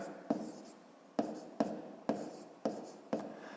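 Numbers written by hand on paper for a fifth-grade math exercise, six short scratchy pen strokes in an uneven rhythm, close and quiet.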